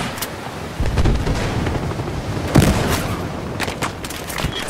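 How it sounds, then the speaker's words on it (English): Battlefield Hardline combat: a thrown frag grenade goes off in a heavy boom amid scattered gunfire and loud, crackling battle noise, with no talking. "Throwing a frag!"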